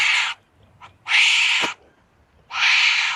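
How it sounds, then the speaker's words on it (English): Three harsh, rasping animal calls, each about half a second long, separated by short pauses, loud and close. "A wombat, which sounds like this."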